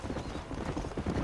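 Horse hooves clip-clopping in Red Dead Redemption, a steady run of quick rhythmic hoofbeats, moderately near, with faint voices underneath.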